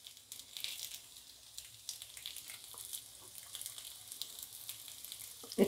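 Appe (appam) sizzle softly in oil in a covered appe pan as their undersides fry, a faint, steady crackle with occasional small pops and a brief clink at the end.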